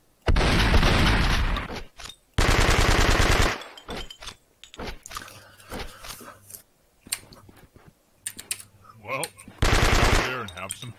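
Bursts of rapid automatic gunfire from a newly picked-up gun in the video game Blood and Bacon, two long loud volleys at the start and another near the end, separated by quieter clatter and game sounds.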